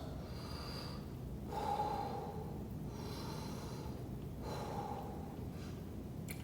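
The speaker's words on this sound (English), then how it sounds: "A couple of deep breaths." Deep, heavy breaths after a free-weights exercise, about four slow in-and-out cycles of audible inhaling and exhaling, close and moderately loud, with no talking.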